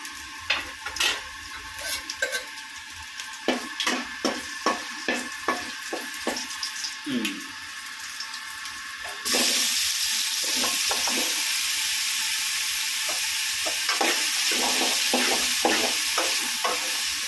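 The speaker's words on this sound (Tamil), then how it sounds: "சோம்பு 2 போடுறேன். அப்படியே நல்லா பல பொரியும். கடுகு பொரியுற மாதிரியே பொரியும்." Fennel seeds splutter and crackle in hot oil for a pumpkin curry, with sharp popping bursts at first and then a louder continuous sizzle with intermittent stirring scrapes, heard up close.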